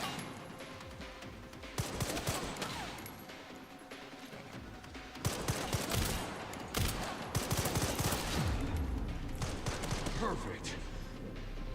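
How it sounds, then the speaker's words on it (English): Bursts of gunfire crack and rattle in the video game Resident Evil Requiem, irregular shots layered over music and loud in-game action, with a voice talking at times. "Who's shooting me?"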